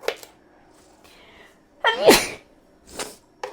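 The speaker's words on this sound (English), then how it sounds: "why is it also making me feel like I have to sneeze?" A single sharp sneeze bursts out, preceded by a few soft breaths and followed by a short exhale, close and loud against near silence.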